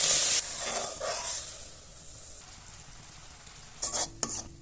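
Half a small bowl of sugar caramelizing in a kadai on a gas stove: soft sizzling and stirring scrapes, loudest at the start, then fading to a quiet hiss, with a couple of sharp utensil clinks near the end. No one speaks.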